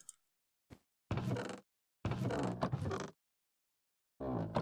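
A wooden chest in Minecraft gives a creaking sound as it opens and closes, with three distinct creaks, each close and clear, separated by silence.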